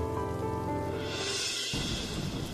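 Cartoon-style rain effect during the monsoon season, a steady hiss of falling rain that shifts into a brighter, denser patter partway through, continuous with no voices.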